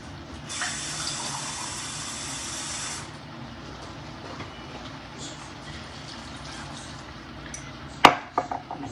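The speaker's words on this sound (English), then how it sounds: "I'll probably have to add a little bit more water" Water pours steadily from a tap into a cooking pot of corned beef and cabbage for a few seconds, followed by quiet kitchen ambience and a sudden clattering knock near the end.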